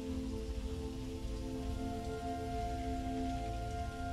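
Steady rain patters on a surface in the video game Fallout 4, a constant soft wash of drops with a faint low tonal hum underneath.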